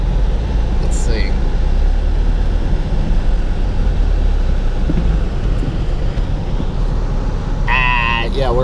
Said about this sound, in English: My foot is totally off the gas and the tire is spinning.